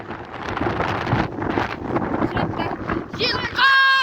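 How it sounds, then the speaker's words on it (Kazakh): Strong wind buffets a microphone outdoors in a village near a river station, a steady broadband roar filling the clip with voices talking faintly beneath it, ending in a brief high whistling tone. "Жел қатты ұрып тұр"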